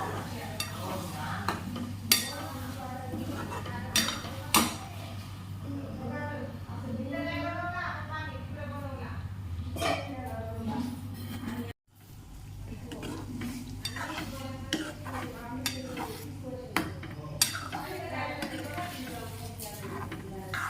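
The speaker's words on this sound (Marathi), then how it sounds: "आता हे पूर्ण मिक्स करून घेते मी" Beaten eggs for anda bhurji are stirred in a pan with a spoon, giving repeated scrapes and clinks against the metal over a faint sizzle, while someone talks throughout.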